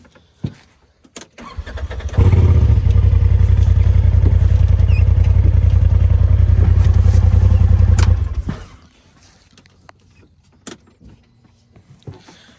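A Polaris RZR side-by-side on 35-inch tires, no lift, cranks over after a few clicks and catches, its engine idling loud and steady for about six seconds before shutting off, leaving quiet handling noises.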